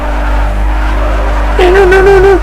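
A car drifts in NFS Underground 2, its loud steady engine drone joined midway by a sustained, wavering tire squeal that lasts under a second, heard close with no talking.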